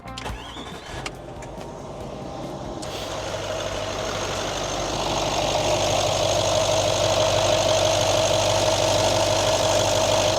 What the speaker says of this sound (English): Let's turn on the engine now, make sure we haven't got any catastrophic boost leaks